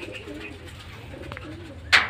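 Low, soft cooing from a racing pigeon murmurs under background noise, ending with a short sharp rustle or flutter near the end.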